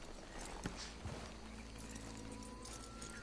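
Horse hooves walk in the Red Dead Redemption 2 video game, a few faint, soft clip-clop steps over a steady low background hum.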